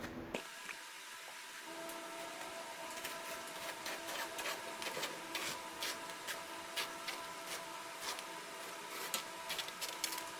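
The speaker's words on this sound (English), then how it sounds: "I can stretch it and just run a razor blade right along there" A razor blade slices along stretched vinyl upholstery on a pontoon boat seat, giving a steady scratchy cutting texture with faint repeated ticks and soft rustles, close and alone without talk.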